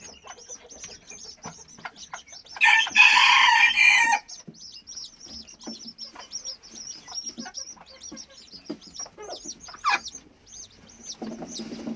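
A broody hen of the Gurk breed clucks steadily to call her silver-laced chicks under her, repeated low clucks with chick peeps throughout and a loud burst of crowing or flapping noise midway.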